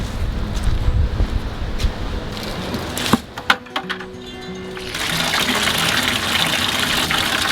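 Water gushing from a tap into a container to water a backyard greenhouse, steady and loud. A short break with clanks and handling noise comes partway through, then the rushing flow starts again.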